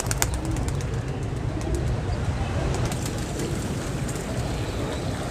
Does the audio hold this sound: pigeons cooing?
yes